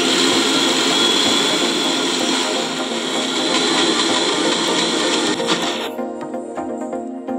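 A mixer grinder grinding moong dal with a little water in its jar: a loud, steady motor whine with rough churning that runs almost continuously, easing off near the end as the machine slows.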